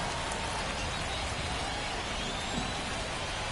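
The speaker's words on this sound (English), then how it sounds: "the field's not going to be able to hold up if the rain gets any worse than this" Steady rain falling on a baseball field in the MLB The Show 24 video game, a dense, even hiss without break, and faint commentary voices mixed in beneath.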